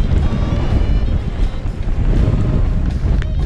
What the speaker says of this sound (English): that wind is absolutely ridiculous